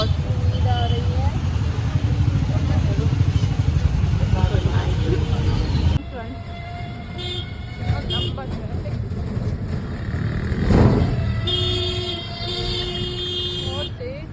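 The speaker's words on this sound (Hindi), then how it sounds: "कितना लंबा ट्रैफिक है।" A long road traffic jam rumbles with car horns and motorcycles: short toots and honks break over a constant engine drone, with one vehicle swelling louder nearby. People talk over the din throughout.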